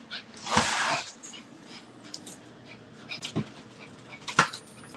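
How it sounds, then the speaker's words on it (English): A dog heard from a television set, with a sharp sneeze or snort, soft panting and whimpers, plus a few brief thumps, at moderate distance with no talk. "No, that's the dog in the TV."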